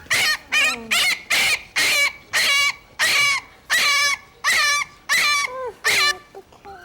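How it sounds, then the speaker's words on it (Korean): A sick puppy around two months old cries close by in a string of about ten high, strained yelps and whimpers, each short and wavering, with brief gaps between them and a weaker trailing whine at the end. "강아지 울음소리에 괴로운 듯 귀를 막는"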